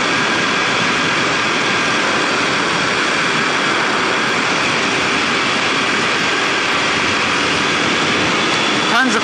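A Kawasaki KLX250sf dual-sport motorbike rides downhill over gravel, its engine and rushing wind forming a loud, continuous, close roar that stays steady throughout.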